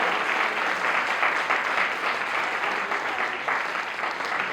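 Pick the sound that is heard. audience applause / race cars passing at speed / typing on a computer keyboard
audience applause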